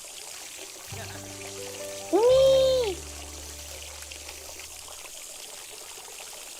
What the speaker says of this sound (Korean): 샤워기 터졌다!